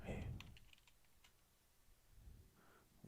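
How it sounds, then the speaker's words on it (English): Computer keyboard typing, a quick cluster of faint clicking keystrokes near the start and a few more near the end, quiet and close with soft voice-like sounds at the edges. "Okay, that's me typing something."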